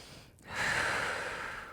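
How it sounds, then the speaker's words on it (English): A person lying on their back draws a deep belly breath, a soft airy inhale swelling after a brief pause and holding steady, close and quiet with no talking. "Take 2 breaths here."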